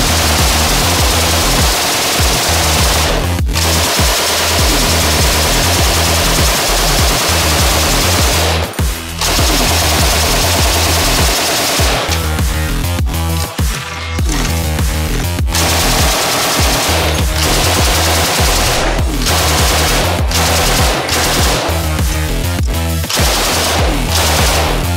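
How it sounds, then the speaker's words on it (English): An M60 machine gun fires in long sustained automatic bursts, loud and close, with a few brief pauses between strings of rapid shots. "The M60 is a very cool universal style machine gun that the US Army rolled out,"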